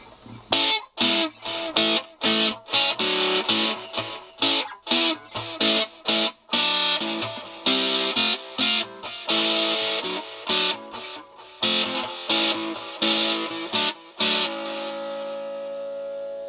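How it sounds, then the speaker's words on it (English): Distorted Harley Benton Telecaster electric guitar, played through a micro amp fitted into its body, playing choppy, stop-start chords and bursts, loud and gritty, with brief silences between strums before ending on a sustained note. "So if I just put some distortion in"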